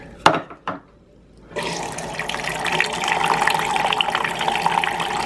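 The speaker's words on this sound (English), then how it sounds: "so there goes the water" A couple of clunks and brief quiet, then water begins rushing and pouring steadily into a Samsung FlexWash washing machine, close and constant.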